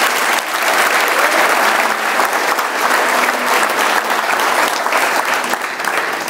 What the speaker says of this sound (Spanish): Dale un aplauso a Jesús con todo tu corazón